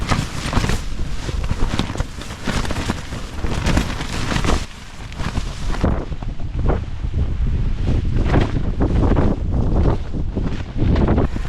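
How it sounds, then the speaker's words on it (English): Gale-force wind in stormy mountain weather battering a tent, loud roaring gusts that surge and slacken with flapping fabric, a brief lull midway before the buffeting resumes, no voices. "Crikey, that wind is really picking up out there."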